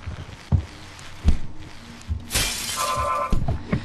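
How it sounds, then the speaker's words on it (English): Glass shatters loudly in the video game Happy Wheels, a sharp burst of breaking glass with trailing tinkling debris after a few dull thuds and impacts. "I'm breaking all the glass"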